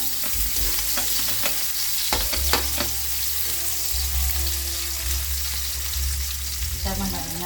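Ginger sautés in hot oil in a pan, a close, continuous crackling sizzle with repeated stirring clicks and scrapes and a low rumble underneath.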